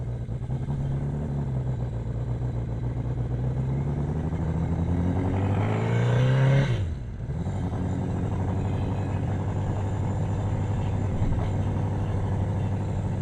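A Yamaha XS1100 cafe racer engine running Speeduino engine management idles steadily with a low throbbing drone, briefly rising in pitch around the middle before settling back to its even idle.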